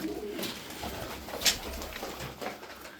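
Arab play pigeons coo softly and repeatedly over a steady background hiss, with no one talking.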